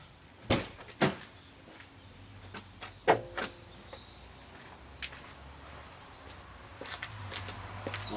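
A few sharp clunks and knocks of a car's access door being opened, with quieter mechanical thuds and faint background noise.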